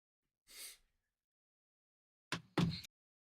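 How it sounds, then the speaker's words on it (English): A man's yawn and stretch during a break in live baseball commentary on a Braves–Cardinals game: one drawn breathy exhale, then after a pause two louder close voiced groaning breaths, with no other sound around them. "yawn and stretch a little bit."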